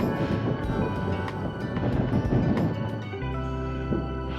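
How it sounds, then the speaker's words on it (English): Wind buffets a microphone on a high mountain ridge at about 11,900 feet, on the East Ridge of Mount Chiquita in Rocky Mountain National Park. It is a loud, rumbling gust for about three seconds, then eases into a steadier low roar. "There's that wind again."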